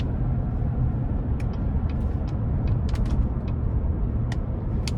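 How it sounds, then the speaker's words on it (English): A 2017 Chevrolet Tahoe Premier with the 5.3 V8 and 6-speed automatic drives on the road, a steady low engine and road rumble filling the cabin, with faint higher ticks and clicks scattered above it. "starting the test drive in this Tahoe, I do like how this 6-speed is shifting as normal"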